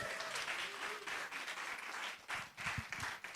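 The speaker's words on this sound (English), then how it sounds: "So I'd like to have a big shout out and a round of applause for Kathy's hard work." A town hall meeting audience gives a round of applause, a fairly quiet, scattered patter of hands heard from a distance, with a few louder close claps and faint voices mixed in.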